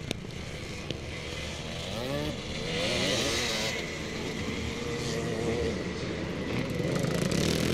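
Honda CRF 250 motocross bikes racing in wet, sticky conditions, engines whining and revving with rising and falling pitch at moderate distance, several machines overlapping under a faint commentary voice.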